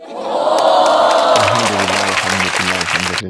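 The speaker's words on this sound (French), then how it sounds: "Mais pourquoi ils applaudissent?" An audience at an interreligious debate bursts into loud clapping and cheering, starting as a dense crowd roar, then a voice speaks over the continuing applause.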